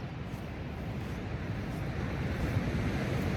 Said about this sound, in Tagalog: Naririnig nyo ba yung hampas ng alon?